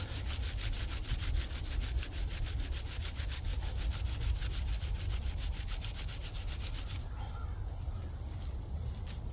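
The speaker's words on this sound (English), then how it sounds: "So I just like to rub it in my hands like this." Dry tinder rubbed and crumbled between the hands into fine dusty pieces, a steady close scratchy rustling with a rhythmic pulse that continues throughout, no talking.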